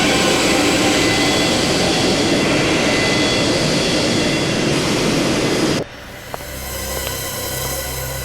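Airplane engines roaring in flight, a loud, steady broadband drone that cuts abruptly to a quieter cabin hum, with a faint click soon after.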